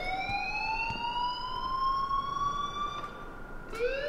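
A rising and falling electronic siren-like alarm wails continuously in a school hallway in the video game Life is Strange, loud and close with a steady sweeping pitch.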